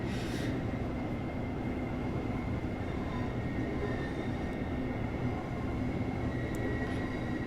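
A Class 395 train pulls into a station in Train Sim World 3, a steady, dense rumble of wheels and rail noise holding level throughout with no voices.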